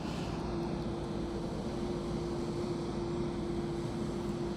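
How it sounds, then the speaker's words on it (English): A distant tractor dumper engine drones steadily in the background near a canal breach, a low continuous rumble with a faint steady hum, no voices. "able to hear the tractor dumper in the background"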